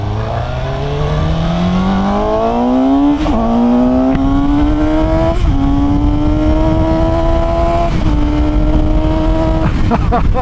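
Suzuki GSX-S750 motorcycle accelerating hard on a highway, its intake snarling loudly as the engine pitch climbs through several gear shifts, close-up over steady wind rush.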